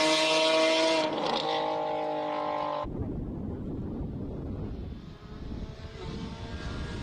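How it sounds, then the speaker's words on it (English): A Lexus race car launches off the start line at a Cape Town hill climb, its engine roaring loud and close before the note drops abruptly into a rougher, receding drone. "Lexus launching off the start line."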